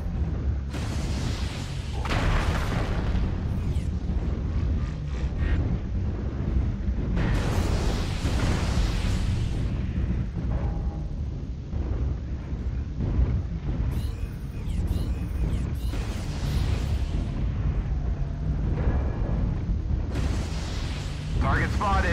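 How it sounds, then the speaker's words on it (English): Repeated heavy artillery explosions from an artillery strike in the tank video game DRG-1G, booming bursts landing one after another over a continuous rumbling battle din, loud and fairly close. "Artillery strike online."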